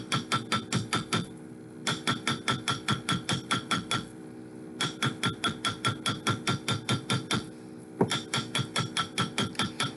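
A soldered metal bangle hammered on a mandrel: rapid, evenly spaced ringing metallic blows in steady bursts, with short pauses between runs, close and clear with no talking.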